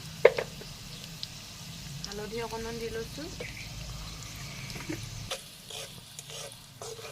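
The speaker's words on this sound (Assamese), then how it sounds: "এইফালে এয়া কেৰাহীখনত পিঁয়াজ সিজিছে, ৰঙচুৱা পৰিছে" Onion, garlic and green chilli with salt sizzle in a little oil in a wok. A soft, steady frying hiss runs under a woman's speech, with light stirring scrapes and a sharp clink near the start.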